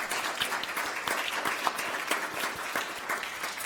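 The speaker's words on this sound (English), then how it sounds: "please let's give them a round of applause" Applause from an audience at a candidate forum for Evanston City Council, a steady crowd-wide patter of many hands clapping throughout, moderately loud and continuous with no talking.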